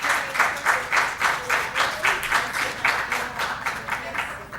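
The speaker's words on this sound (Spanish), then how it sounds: "Un aplauso." An audience at a business sustainability seminar applauds in steady rhythmic unison, a regular pulse of many hands clapping together that stays close and even throughout.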